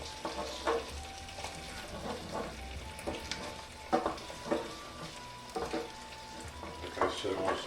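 An egg sizzles in a hot pan for fried rice as it is stirred in small circles, with steady frying crackle and soft scraping taps of the utensil, close and moderately quiet.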